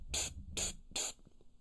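A voice imitating pressurized air released from an aerosol can, heard as three short, loud hissing bursts evenly spaced, each cut off sharply, alone.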